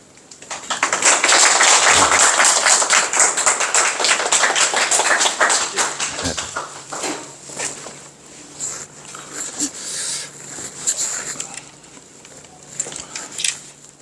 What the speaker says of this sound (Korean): 이 바쁜 가운데도 여러분들을 위해서 이렇게 찾아오신 박민호 회장님을 큰 박수로 모시겠습니다.